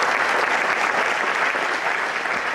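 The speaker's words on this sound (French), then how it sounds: "on peut l'applaudir." Audience applause at a regional council event in France, a sustained even wash of many hands clapping at moderate loudness, with no voices over it.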